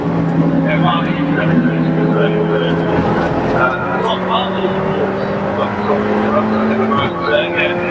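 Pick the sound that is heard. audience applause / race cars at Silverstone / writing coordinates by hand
race cars at Silverstone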